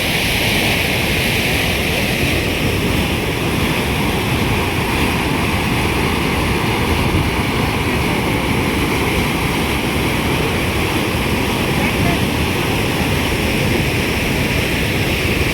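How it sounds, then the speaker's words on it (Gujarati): The flooded Machchhu river at Morbi surges after heavy rain, a steady, loud, unbroken roar of rushing water that fills the whole stretch without pause. "જો તમે કેવી હાલી જાય ધમધોકાર"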